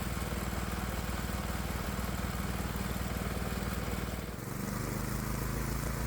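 Stock Predator 212 small engine running steadily under about a 15% generator load, a loud continuous mid-pitched drone with a brief dip in speed near the end before settling back to an even hum.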